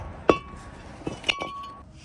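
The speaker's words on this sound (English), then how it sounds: "Now we could just take this rotor off." Brake rotor being pulled off the hub of a 1998 Ram 1500, with a sharp metallic clink followed by two lighter metal taps and a faint ring, close and brief.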